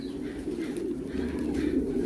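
Low, steady cooing of pigeons, continuous and fairly close, with soft rumbling tones throughout and no voices.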